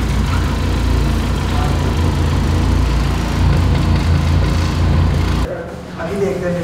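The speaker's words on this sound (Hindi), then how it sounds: "आपकी बाइक हमें पैसे देने से पहले स्टार्ट कर दी" A Benelli TRK 502X motorcycle engine runs at idle, a loud, close, steady low rumble. Voices and other noise sit over it, and the sound drops off abruptly near the end.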